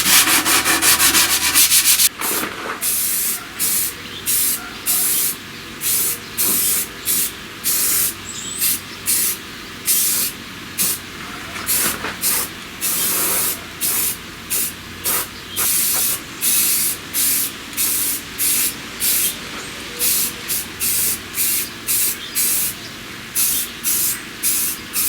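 Gray primer sprays from an aerosol can onto a cyclekart body in a long run of short, sharp hissing bursts with brief gaps between them. The bursts sound close and fairly loud, with no talk.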